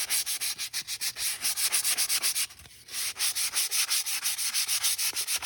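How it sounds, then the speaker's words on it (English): Folded sandpaper rubs back and forth over wooden craft sticks in fast, steady strokes. The gritty scraping is close and loud, pauses briefly midway, then carries on with no talk. "Let the sandpaper do the work. I just folded it over."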